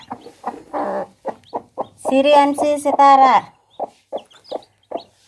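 Hen clucking over her four newly hatched chicks, short harmonic clucks and calls in a steady sequence, close by, with people talking nearby.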